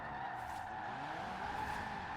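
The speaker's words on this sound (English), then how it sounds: "So that was another pop, or clutch pop right there." A drifting car in the racing game Forza Horizon 4 gives a steady tire squeal and engine roar throughout, with no distinct separate pop standing out.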